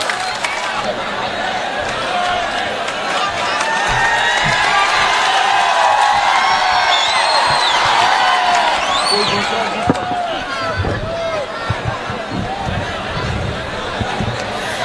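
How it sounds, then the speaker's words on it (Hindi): Loud applause and cheering from a crowd at an All India Mushaira poetry gathering in Mau, a dense, sustained roar of clapping with shouts and whistles that swells in the middle and carries on for about fifteen seconds. "जोरदार तालियों से इस्तकबाल कीजिए राना तबस्सुम का"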